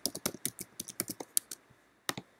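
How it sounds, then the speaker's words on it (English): Typing an email on a computer keyboard: a quick run of crisp, close key clicks in an uneven rhythm, pausing briefly before a couple of final taps, with no talk. "typing in my email"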